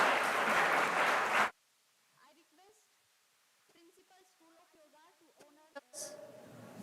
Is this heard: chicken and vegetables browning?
no